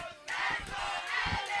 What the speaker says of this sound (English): Hear the fans yelling and screaming.